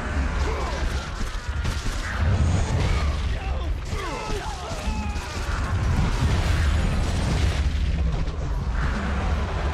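Heavy crunching impacts and booming crashes from a head being slammed against a rock foundation in the PS3 game God of War, loud and continuous over dense combat noise, with some voice underneath.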